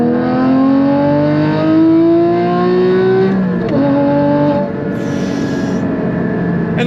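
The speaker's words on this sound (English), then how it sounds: "And then the sound of that exhaust." A Porsche Cayman GT4 with a modified exhaust and six-speed manual revs hard, pitch climbing steadily, drops briefly at a gear change, then climbs again; loud and continuous, close by.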